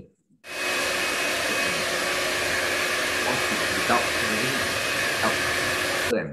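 An iTeraCare therapy device blows a steady, loud stream of air, a constant hair-dryer-like hiss that runs unbroken from start to finish after a brief quiet opening.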